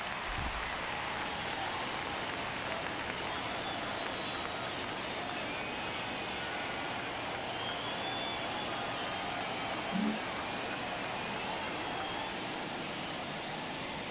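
Steady ballpark crowd murmur in MLB The Show 23 during a tense ninth inning, a broad, distant wash of stadium noise that holds constant and fairly faint throughout, with no clear cheers standing out.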